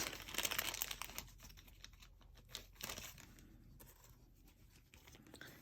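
Plastic bag crinkling as it presses chunky glitter and dip powder flat on a nail, with a dense burst of close, scratchy rustles early on, then scattered softer crinkles.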